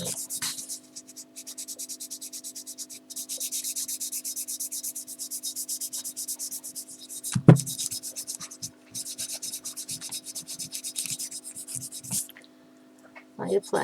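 Wax being buffed by hand onto an antique glass bottle, a steady soft rubbing and squeaking that runs in repeated strokes with brief pauses, close and alone.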